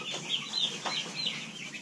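Small laying hens of mixed breeds cluck softly and intermittently on a farm, a continuous low chatter of several birds with no talk.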